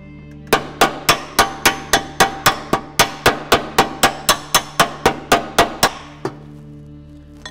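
Hammer striking sheet metal against a dolly to tap down a small dent, a rapid, steady run of about twenty sharp metallic taps, close and loud, ending with one last tap after a short pause.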